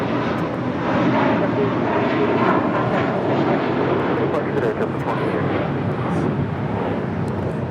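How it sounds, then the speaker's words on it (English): A JetBlue Airbus A321 jet roars loudly and steadily at Los Angeles International Airport, a broad continuous engine rush holding for the whole stretch with no break. "JetBlue Airways, flight 2885, a 6-year-old A321"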